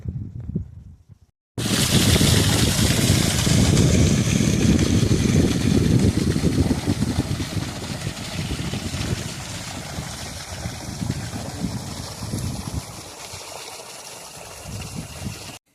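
Irrigation water rushes steadily through a field of groundnut and chickpea, with a pump engine running beneath it. The sound starts abruptly after a brief quiet moment, then continues as a dense, close wash that gradually eases.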